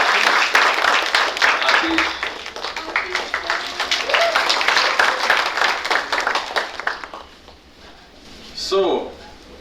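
A university orientation day audience applauds with dense, sustained clapping that gradually thins out and fades, followed by a brief clatter near the end.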